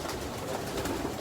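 Young pigeons coo in a loft, producing a brief, soft, continuous low burble amid light ambient noise.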